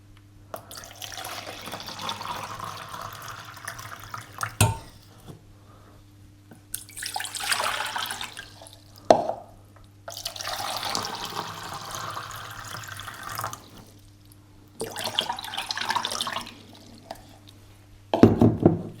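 Water runs from a tap in several bursts, each a few seconds long, with quiet pauses and small clinks between them; no voices.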